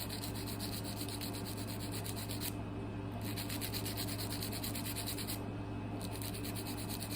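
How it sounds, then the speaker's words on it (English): A nail file rasps straight across a fingernail's free edge in steady, even back-and-forth strokes, with two short pauses, up close and alone. "File straight across like this."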